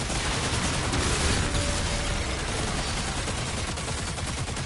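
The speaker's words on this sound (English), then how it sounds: "That's a cannon!" A cannon fires in Doom: The Dark Ages amid a dense, continuous barrage of loud gunfire and blasts that fills the whole stretch without a break.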